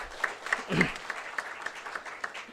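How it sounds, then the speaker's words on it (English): A seminar audience of tax consultants gives a round of applause after a vote of thanks, steady dense clapping that continues evenly throughout with a faint voice underneath. "I would request all of the participants to carry out this vote of thanks with a huge round of applause."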